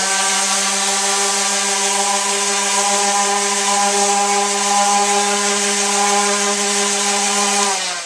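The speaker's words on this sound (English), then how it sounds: "I'm going to use electrical sander" A steady, loud electric sander drone with a strong hum, sanding a wooden dresser, holds evenly for about eight seconds, then cuts off abruptly at the end.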